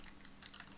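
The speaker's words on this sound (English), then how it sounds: "I love the sound of the keyboard. It is pleasing. It's the best part of a mechanical keyboard for sure." A mechanical keyboard clatters faintly in a handful of quick, uneven keystrokes, soft and slightly distant with a low background hiss and no talking.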